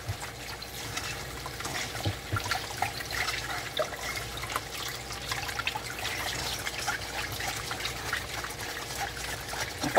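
Running tap water pours and trickles steadily over a pile of dishes being washed by hand, a continuous close splashing wash with faint clinks, no talking.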